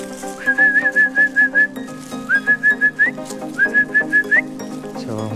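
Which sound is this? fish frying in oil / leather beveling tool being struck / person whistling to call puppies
person whistling to call puppies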